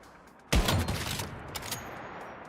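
A turret in the Once Human video game fires a sudden loud burst of gunfire, and the crackle fades into a sustained rattling tail with scattered sharp reports.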